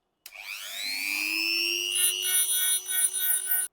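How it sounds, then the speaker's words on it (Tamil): A small handheld electric rotary tool whirs steadily while scraping the terminals of a power bank battery during a restoration repair, its high whine rising as it spins up and holding close and loud with slight wavering as it bites the metal. "ஃபர்ஸ்ட் இதை நம்ம நல்லா சுரண்டி விடணும். அதுக்கு வந்து நாங்க இந்த மிஷினை யூஸ் பண்ண போறோம்."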